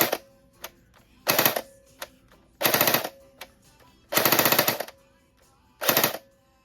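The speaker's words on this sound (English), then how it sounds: "If we pull it all the way back, then you get full auto." An FN Herstal P90 fires in short full-auto bursts, four or five loud rapid strings of shots separated by brief pauses and a few single clicks, close by.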